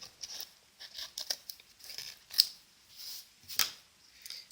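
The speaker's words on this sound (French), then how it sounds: "il suffit juste de découper" Scissors snipping a nail polish sticker, a few faint, close, crisp cuts spaced irregularly with soft paper rustling between them.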